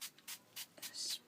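An alcohol spray bottle puffs several short, soft hissing bursts onto cardstock, close and quiet, spaced irregularly with a longer spray at the end.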